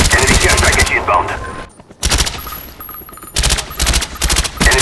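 Rapid bursts of Call of Duty: Black Ops gunfire, loud and close, in several volleys separated by short pauses, with faint background voices.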